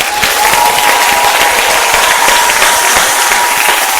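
A church congregation claps and applauds in a dense, continuous wave that fills the room, loud and sustained with faint crowd voices beneath.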